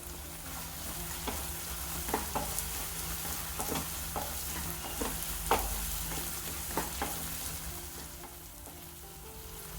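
Tomatoes sauté in a pan with chili powder, coriander powder and salt for street-side egg kothu parotta, making a steady soft sizzle broken by repeated spatula scrapes and clacks.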